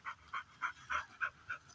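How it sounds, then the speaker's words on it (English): A dog pants in hot July weather, close by, with steady rhythmic breaths about three per second. "You're panting like a son of a gun in this heat"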